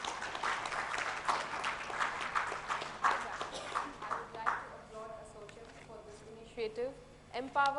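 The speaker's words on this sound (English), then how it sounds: "Can I have a huge round of applause" Audience applause at a women's empowerment conference, a burst of clapping for about four seconds that quickly fades, followed by a voice speaking over the room.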